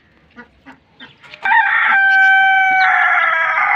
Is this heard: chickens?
yes